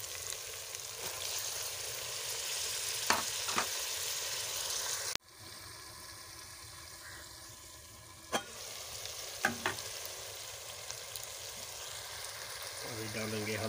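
Tomatoes hitting hot oil in a chicken curry masala, a steady loud sizzle with a few scraping stirs of a spoon, a sudden cut midway, then frying continuing somewhat softer with occasional clinks.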